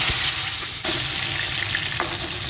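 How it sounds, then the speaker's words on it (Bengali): Pointed gourd (potol) fries in a pan with a loud, continuous hiss of hot oil and a few sharp stirring knocks, heard close with nobody talking. "এখানে এখন পটলটা আমি ভেজে নিচ্ছি।"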